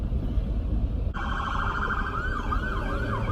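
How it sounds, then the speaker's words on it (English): Emergency sirens wail and oscillate, rising in clearly partway through and continuing steadily over a low rumble of background noise. "You hear them sirens right there?"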